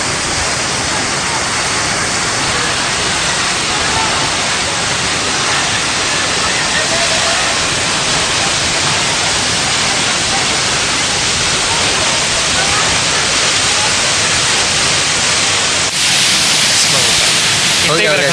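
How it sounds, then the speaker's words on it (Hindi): Waterfall at Tiger Point in Mainpat, a constant loud broadband rush of falling water filling the whole span without pauses. "वाटरफॉल दिख रहा है"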